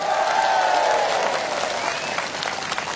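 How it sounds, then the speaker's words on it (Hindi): Dense, steady crowd applause fills a political rally in the Yachuli Assembly Constituency of Arunachal Pradesh. It is loud and continuous, with some voices mixed in throughout. "एसीएफ के लिए एक बार जोरदार ताली।"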